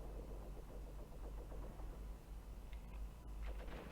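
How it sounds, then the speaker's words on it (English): A tank engine idling in the war game Graviteam Tactics, a low steady rumble held close and even, with a few faint clicks and bumps near the end. "Yeah, the tank's still idling."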